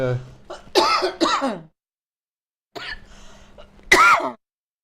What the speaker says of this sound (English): then she coughs again